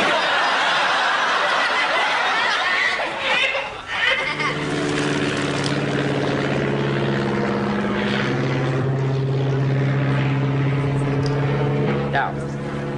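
A propeller plane drones overhead above a rural field, its engine hum rising and then holding as a steady harmonic roar, with some laughter mixed in.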